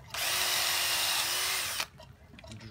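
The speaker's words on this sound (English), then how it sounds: "drill right like that" A power drill bores a pocket hole into wood through a pocket-hole jig, one loud steady high whine lasting under two seconds before it cuts off abruptly, followed by faint handling noises.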